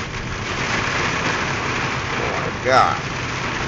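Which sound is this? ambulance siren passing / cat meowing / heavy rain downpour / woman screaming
heavy rain downpour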